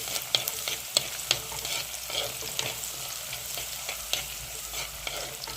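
Sliced onion and garlic sauté in a hot pan, giving a steady sizzle broken by repeated scraping and stirring clicks of a utensil, with no voices.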